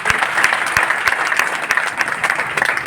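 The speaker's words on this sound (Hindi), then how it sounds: "चाहेंगे इनके लिए एक जोरदार ताली।" Loud, dense audience clapping at a testimony gathering, continuous sharp hand claps filling the whole stretch with a faint crowd murmur beneath.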